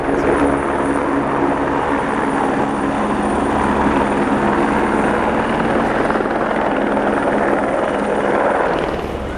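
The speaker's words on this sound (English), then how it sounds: "There's a helicopter coming." A helicopter roars loud and close overhead at a karting track, its steady droning rotor noise filling the whole stretch without a break.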